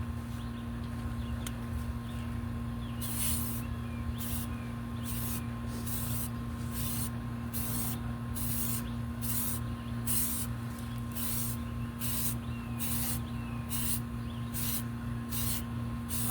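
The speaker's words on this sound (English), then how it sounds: "Now I'm going to do a general spray with the gray," Gray paint sprays onto a model kit in quiet, repeated short bursts of hiss that pulse at a regular rhythm over a low background hum.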